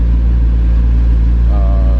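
A McLaren car idles loud and close with a deep, steady low rumble, and a faint higher whine joins partway through.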